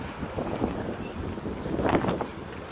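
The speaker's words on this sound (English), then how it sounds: "Unfortunately, it got extremely windy at this point." Steady, strong wind buffets the microphone outdoors at the Motherland Monument in Kyiv, Ukraine, a broad rumbling roar with gusts swelling louder near the end.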